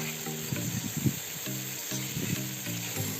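Eggplant and bamboo shoot pieces frying in a pan, a steady close sizzle with bursts of crackle throughout, under a continuous high hiss.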